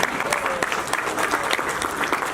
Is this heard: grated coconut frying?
no